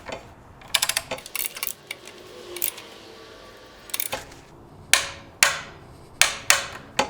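A torque wrench tightens bolts down to 15, producing sharp metallic clicks and ratcheting taps in uneven clusters, with several crisp, louder clicks toward the end, close by and without speech.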